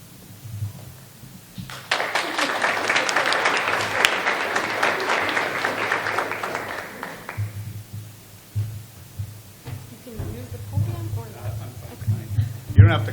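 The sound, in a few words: audience applause at county fair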